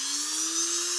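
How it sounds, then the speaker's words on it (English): A Dremel fitted with a drill bit carving letters into a concrete Halloween tombstone, a steady high-pitched whine running loud and unbroken throughout, with no talking. "Dremel with a drill bit in it"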